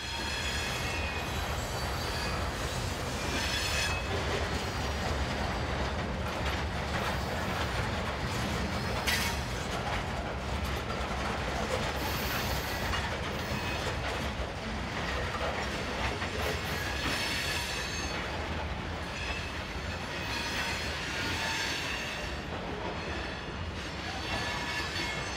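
Uprated GE Dash 9 diesel locomotives rumble steadily past at close range near Randolph Street in Virginia, a continuous roar with clattering wheels and occasional metallic squeals, no voices.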